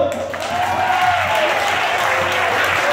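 Audience applause at a cultural event for people with Alzheimer's, a steady wash of clapping throughout with a faint tonal hum underneath and possible voices mixed in.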